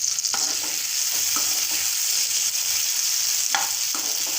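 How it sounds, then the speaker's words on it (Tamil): Chopped onion and tomato sauté in a pan for a spicy kara chutney, a steady close sizzle broken by a few scraping stirs, with no voices. "இப்போ இதில் நம்ம வெட்டி வச்ச வெங்காயம் தக்காளியை சேர்த்து வடக்கிக்கலாம்"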